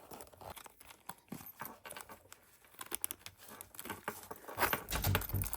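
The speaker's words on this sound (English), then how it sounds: "Let's see if that zips up." A small Coach denim Mini Rowan bag charm, stuffed full with a tiny perfume bottle and other items, gets zipped shut with quiet rasping and crinkling handling noises, followed by a louder burst of rustling at the end.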